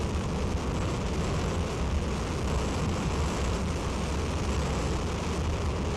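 The Ares I-X rocket roars at launch, a continuous, dense, far-off rumble that holds steady and loud throughout, with no voices over it.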